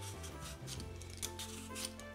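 Sticky candied orange peel is cut with a blade on a board, giving a short, quiet run of soft snipping and rubbing sounds heard close and alone.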